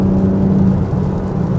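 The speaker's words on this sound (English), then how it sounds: "you do get that nice turbo sound when you on the throttle" Steady, loud engine rumble and whir with a low drone throughout, like a car pulling under throttle, no voices; turbocharged BMW G81 M3 Touring CSL build.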